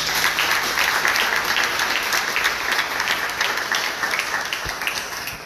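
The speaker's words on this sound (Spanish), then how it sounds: "quiero un fuerte aplauso a la cooperación internacional" Audience applause at the inauguration of a migrant care centre, a dense, steady wash of many hands clapping that stays loud throughout and tapers slightly at the end.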